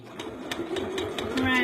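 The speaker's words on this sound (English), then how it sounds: "Put it under the sewing machine." A sewing machine basting a few stitches across the crotch seams of a garment, heard as a close, quick rhythmic pulsing with a speaking voice over it.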